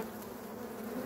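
Honey bees in a hive hum as a steady, dense buzz, close and continuous.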